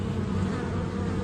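Dense swarm of locusts buzzing, a continuous loud droning hum with no breaks or voices.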